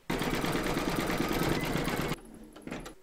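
An embroidery machine stitches a crazy patch quilt block in the hoop with silver thread, a steady close whirring hum that cuts off abruptly and then gives a few faint clicks.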